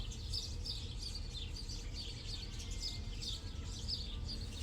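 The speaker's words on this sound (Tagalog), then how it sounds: "Huni ng mga ibon ang naririnig dito." Birds chirp in repeated high bursts outdoors under an overcast sky in the countryside, faint and distant over a steady low rumble.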